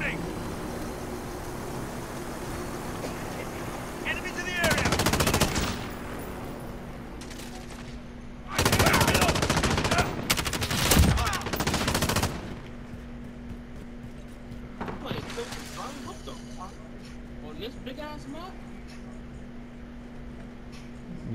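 Rapid gunfire in a shooter video game, heard as several loud dense bursts of shots with quieter stretches between them and voices talking over the action.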